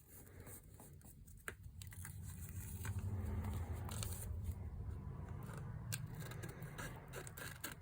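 Scissors trimming paper for a mixed media collage, a steady close crisp cutting and rustling throughout, fairly quiet.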